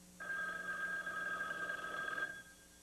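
Telephone bell ringing steadily for about two seconds, a continuous electronic trill that is close and moderately loud, alone with no voices, in a domestic sitcom setting.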